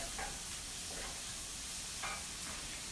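Fresh garlic sautéing in a pan gives a soft, steady sizzle with a few faint stirring scrapes, quiet and close, with no voices.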